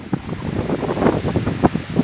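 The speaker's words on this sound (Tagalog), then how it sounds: "medyo lumalakas-lakas ngayon ang hangin" Strong tropical storm wind gusts roar and buffet the microphone in uneven surges by the sea, with a rushing sound like surf underneath.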